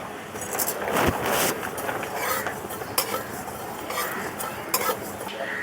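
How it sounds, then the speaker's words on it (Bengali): Whole coriander seeds, cumin and black peppercorns dry-roasting in a pan, a soft steady sizzle with repeated scraping stirs and occasional sharp clinks of a spoon against metal, close up and without talk. "এখন শুকনো মশলাগুলো ভেজে নেব।"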